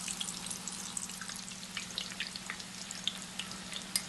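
Cauliflower pieces fry in hot oil with a constant close sizzle, dotted with small sharp pops and spits; no voices.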